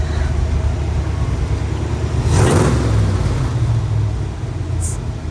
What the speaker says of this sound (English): we got the Buggy going, and it's awesome